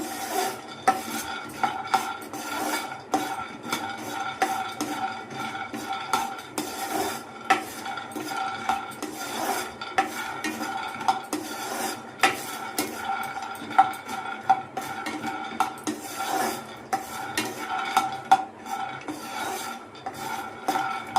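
A spatula scrapes and stirs ingredients frying in a pan for chicken fry piece biryani, a steady rasping rhythm of metal on the pan with a soft sizzle underneath and no talking.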